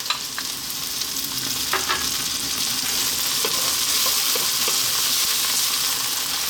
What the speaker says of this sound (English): At this point we're going to drop in our peas.